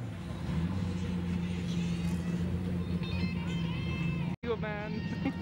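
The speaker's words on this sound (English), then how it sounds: "Get him to rev it. Rev it for us." A car engine revs with a steady, loud mechanical drone at a busy car meet, with people talking over it throughout and a brief dropout near the end.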